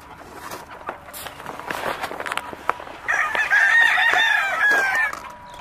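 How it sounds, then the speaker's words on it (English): Game chickens cluck in short scattered bursts, then a rooster crows loudly and close, its long call rising over the flock. "These are game chickens as well"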